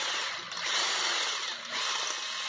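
A power drill bores through the baffle of a 2016 Harley-Davidson Iron 883 exhaust muffler, a steady high whine that dips briefly twice as the bit pushes through the metal, close and loud with no talking.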